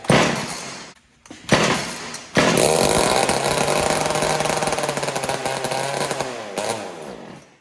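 A Ryobi chainsaw sputters briefly twice, then catches and roars loudly for about four seconds before the engine dies away, heard alone and close.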